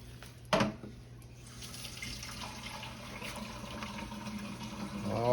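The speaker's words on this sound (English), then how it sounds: "Just a little hot water we putting in here." Hot water pours steadily into a cooking pot with a soft, continuous splashing, preceded by a brief clatter; quiet and close.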